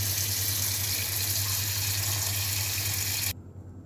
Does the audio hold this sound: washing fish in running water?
yes